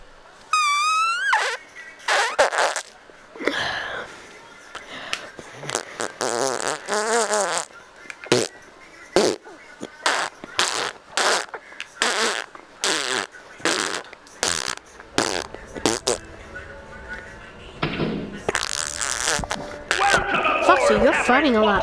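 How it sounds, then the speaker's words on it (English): Repeated farting noises while playing Five Nights at Freddy's VR: Help Wanted, loud, bursty blasts in an irregular series spread across the stretch, mixed with voices and game sounds. "Farting a lot."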